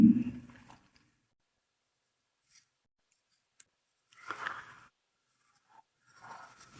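Handwriting on paper during a finance lesson, a few soft scratchy strokes in short bursts separated by silence, quiet and close.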